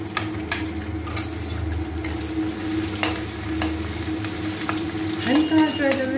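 Garlic frying in hot oil for a creamy pasta gives a steady, close crackling sizzle with a low background hum, a few sharp pops and some pan and utensil clinks near the end.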